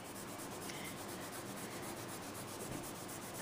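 A cloth rubbing wax over a carved wooden furniture surface, a faint, steady scrubbing hiss in quick even strokes, close and alone.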